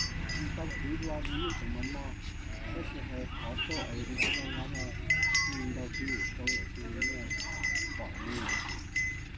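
Water buffalo at a buffalo fighting event in Xieng Khouang in 2019, with animal calls and clinking bell-like sounds mixed into steady crowd chatter and people talking throughout.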